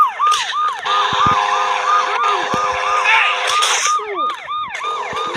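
A police siren from a GTA-style video game wails loud and close. Its rising and falling sweeps repeat and overlap throughout, with other game sounds and laughing voices mixed in.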